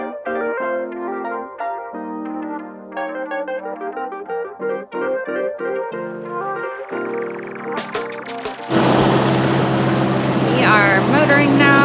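Sailboat's engine starting up and running on the Great Lakes near Muskegon, a sudden loud steady drone with wind noise taking over after a stretch of tonal sound.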